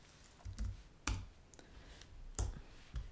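Mouse clicks while working in AutoCAD: about five or six crisp, close single clicks spaced irregularly across a few seconds, quiet and isolated with no talking.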